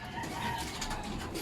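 Racing pigeons in a backyard loft, freshly bathed on a hot day, give soft low coos and rustles over a steady outdoor background noise for the whole stretch.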